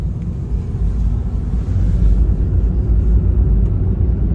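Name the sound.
car driving on road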